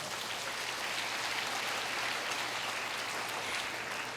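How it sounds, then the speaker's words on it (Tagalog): A church congregation gives a continuous round of applause to God, a dense, even wash of clapping that holds steady from start to finish with no talking. "Gusto pang palakpak sa Diyos, igsoon."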